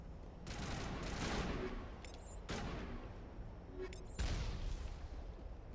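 Rapid bursts of gunfire from the video game Mass Effect fire repeatedly throughout, with sharp cracks and several dense volleys, loud and continuous with no talking over them.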